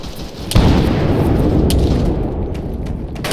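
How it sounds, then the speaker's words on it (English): Gunfire and explosions in the military video game Arma 3: a dense, continuous rumbling roar of distant combat with a sharp boom near the start and scattered crisp shot cracks on top. "I'm hearing shots north"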